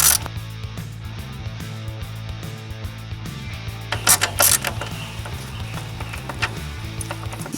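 Ratchet wrench turning a 10mm screw on a Suzuki RF 900 motorcycle during carburettor removal, a steady run of close mechanical clicking with a few brighter metallic clicks partway through, no talking.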